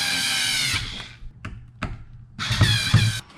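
Power driver tightening screws on an aluminum steering handle for a kayak drive system, loud high-pitched whirring bursts, near and close, separated by short clicks and pauses.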